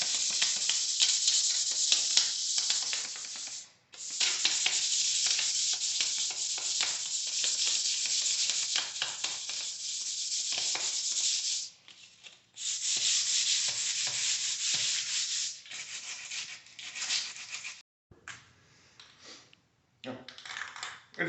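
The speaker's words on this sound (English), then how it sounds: "I'm gonna put this 100 grit sandpaper and just kind of go over the whole thing" Hand sanding with 100 grit sandpaper over a DIY fishing rod travel case, long loud rasping back-and-forth strokes with brief pauses, close to the microphone.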